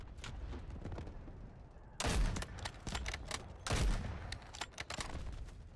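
Gunfire in the first-person shooter Delta Force, with two loud bursts of shots over a steady background of battle noise and distant firing, then scattered single shots.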